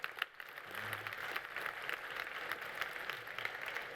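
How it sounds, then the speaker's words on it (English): An audience at a panel discussion on affordable housing gives a brief round of applause, faint and distant, as a soft steady patter of clapping. "Could you give them a quick round of applause?"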